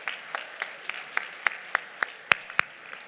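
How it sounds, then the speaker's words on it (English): Audience at a scholarship awards event applauding, with a dozen or so sharp, separate claps standing out over softer clapping in a modest room. "please give our student recipients another round of applause for their outstanding work"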